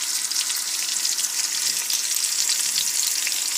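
Garlic and green onions sizzling and frying steadily in a hot pan, a dense continuous hiss with faint stirring, close and fairly loud with no talking.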